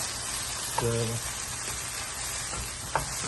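Eggs going into a hot pan of peppered okra: a low, steady sizzle with a couple of brief sharp ticks as they land and crack, fairly quiet and without talk.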